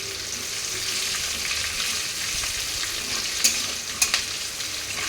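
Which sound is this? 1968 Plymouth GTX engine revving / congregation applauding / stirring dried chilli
stirring dried chilli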